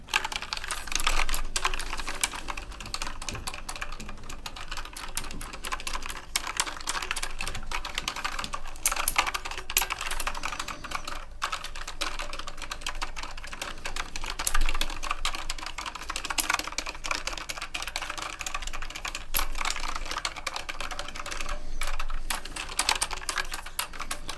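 Steady, fast typing on an RGB gaming keyboard, a continuous stream of crisp close-up key clicks and clacks with occasional heavier strokes, no voices throughout.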